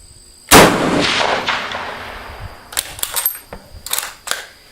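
A single sharp rifle shot from a 102-year-old m/1896 Swedish Mauser chambered in 6.5x55, loud and close with a brief decaying echo, followed by a few quieter mechanical clicks and clacks of the action.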